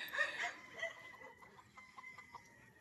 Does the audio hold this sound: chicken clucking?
yes